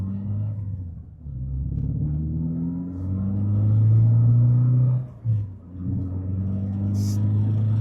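A Renault Clio engine on a race track runs unevenly, a steady mid-pitched drone with a rising and falling rev note, a brief dip near the five-second mark, and loud, close rumble throughout.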